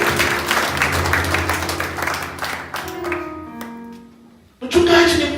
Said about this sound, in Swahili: Tunaweza kushangilia mama yetu kwa kushukuru Mungu juu yake.